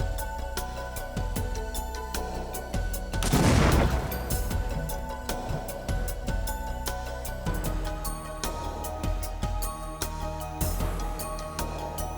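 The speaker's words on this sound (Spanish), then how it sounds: "El paquete final está listo para detonar." A loud, broadband blast bursts out over a dense, continuous rumble, followed by scattered sharp cracks and a second swell of noise near the end.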